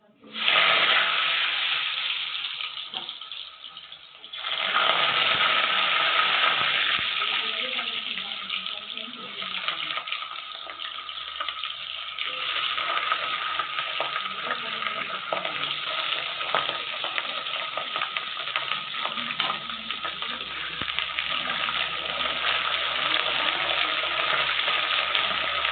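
Potatoes frying in hot oil in a wok over a gas flame, a steady broadband sizzle that surges loudly after a few seconds and keeps hissing at an even level.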